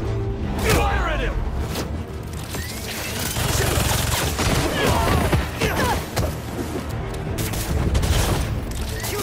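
Enemy gunfire in Spider-Man 2 on PS5: rapid bursts of shots and booms crackle densely throughout, loud and close, mixed with mechanical clatter and thuds, with shouting voices heard over the fight.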